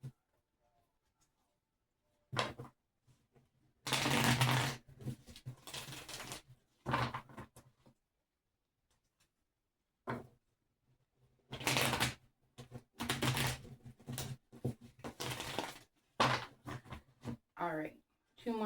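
Tarot cards are shuffled in several brisk riffling bursts separated by quiet pauses, close up and crisp.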